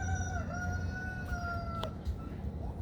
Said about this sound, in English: My Rhode Island red bantam.